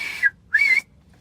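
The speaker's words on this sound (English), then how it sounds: "So here's a video of me whistling." A person whistles to call pets: two short, clear whistle notes, the second longer, fairly close and alone with no talk.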